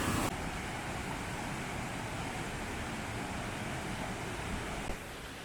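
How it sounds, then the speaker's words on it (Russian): Cascading waterfalls on a hiking trail, a steady broadband rush of falling water that stays close and constant throughout, with no voices. "Тут такие каскады водопадов."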